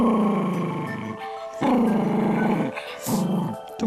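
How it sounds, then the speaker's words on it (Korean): A pet dog guarding its owner growls low and rumbling in close, repeated throaty bursts with short pauses between them, loud and near. "그냥 다가오면 으르렁만 거려는"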